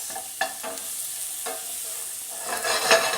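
Vegetables for petit pois à la française softening gently in a pan, a low quiet sizzle with several spoon scrapes as they are moved around, the frying growing slightly louder toward the end.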